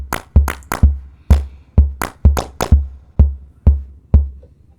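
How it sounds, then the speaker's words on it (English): Kick and clap loop programmed on a SONICWARE Liven 8Bit Warps: punchy low kicks alternating with crisp synthetic claps in a steady groove, loud, close and without talk. "We got a nice kick clap loop going."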